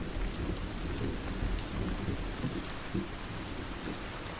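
Soft steady rain with low rumbling thunder, a continuous wash of rainfall with a few distant rolling rumbles and no voices.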